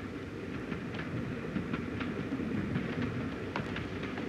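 A passenger train rolls along the rails in a 1958 wartime short film, giving a steady rumble with faint rhythmic clicks of the wheels that carry on alone at a moderate, even level.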